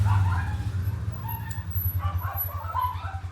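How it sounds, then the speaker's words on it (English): Several dogs on a cattle ranch bark and yip in quick, overlapping bursts at close range, a steady excited clamor with a few higher yelps mixed in. "I've got quads and dogs going by and my dogs are going apeshit and it's feeding time"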